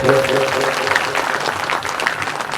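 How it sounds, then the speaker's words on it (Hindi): Audience applause welcomes a wedding procession during a religious scripture-recital gathering in Bilaspur village, a steady, dense clapping that lasts throughout, mixed with talk and faint sustained musical tones early on. "जोरदार ताली से आप लोग उनका स्वागत करेंगे।"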